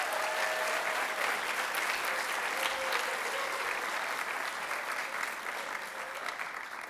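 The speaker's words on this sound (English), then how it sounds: "So let's give them a big round of applause." A large audience applauds a high school booster club at a Broadway-themed arts show, sustained dense clapping throughout that eases slightly toward the end.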